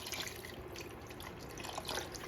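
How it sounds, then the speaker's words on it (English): Beef broth, 32 ounces, pours into a pot already holding water for a beef stew, a soft, steady liquid splashing and gurgling throughout, fairly quiet and without talk. "let me get my beef broth. I'm going to pour it in also."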